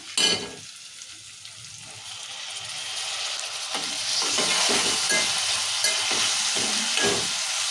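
Tomatoes and chillies sizzle in hot oil with ridge gourd in a pan, a steady frying hiss that swells louder partway through, broken by scraping stirs of a spoon.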